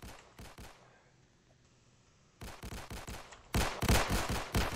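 Bursts of video game gunfire crackle in quick volleys, a few sharp shots up front, a quieter pause, then louder rapid-fire strings of shots close by.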